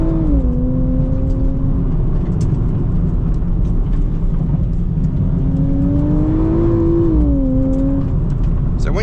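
A 2025 Nissan Z Nismo engine drones loud and steady from inside the cabin while driving hard through S-bends, its revs rising and falling in smooth sweeps as the car pulls through the corners, with someone talking faintly over it.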